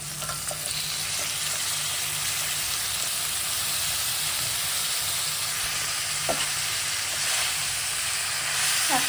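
Vegetables are added to a hot pan of well-fried spices for a Bengali spinach curry and sizzle with a steady, dense hiss, joined by occasional stirring clinks, heard up close with no talking.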